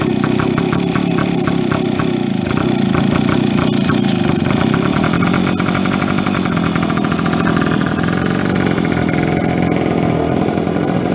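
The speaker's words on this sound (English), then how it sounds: "having a ride of the Bantam" BSA Bantam motorcycle engine running loud and close, a buzzy two-stroke putter that steadies and rises as the bike rides off down a driveway, no talking.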